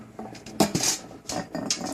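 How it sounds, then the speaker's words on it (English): A heavy stone molcajete set down into a cooking pot in a kitchen sink, making a few sharp clanks and scraping knocks in quick succession, close and with no talk. "I'm going to take this and put it in my pot."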